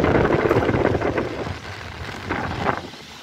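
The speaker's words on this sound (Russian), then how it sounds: "Ветер поднялся, волна." Wind rushing over the sea at a cargo terminal, a broad steady roar with surging gusts and wave wash, loud and close, easing slightly midway and then swelling again, with no voices.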